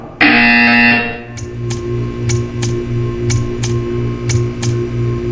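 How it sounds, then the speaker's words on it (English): A loud buzzing tone from the video game Portal 2 sounds for about a second, then a steady low electronic hum continues with evenly spaced sharp ticks. "When you hear the buzzer, stare at the art."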